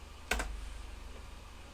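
A single sharp keystroke on a computer keyboard, close and quiet, while typing into a website search bar, followed by a low steady hum.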